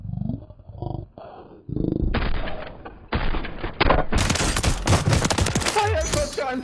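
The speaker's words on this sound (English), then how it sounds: "Fire shotgun!" A shotgun fires in a video game, with loud blasts and rapid bursts of gunfire that grow denser and louder toward the end, mixed with other game noises.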